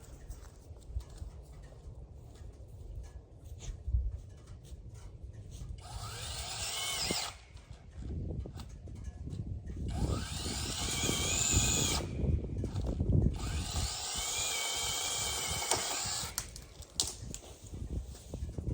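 A Seesii electric pole saw whines in long bursts, biting through tree limbs with rising and falling intensity, separated by brief pauses and outdoor background noise.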